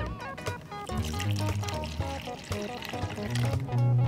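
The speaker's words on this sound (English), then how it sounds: "we're gonna put 4 ounces of vinegar in a measuring cup" Vinegar pours into a measuring cup in a steady, close trickle with liquid splashing and gurgling as the cup fills, loud and unbroken throughout.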